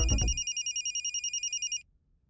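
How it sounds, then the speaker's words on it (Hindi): An electronic telephone rings in a rapid, regular pulsing trill of high bright tones, loud and close, lasting about a second and a half after a brief burst of other sound at the start, then stopping. "फोन।"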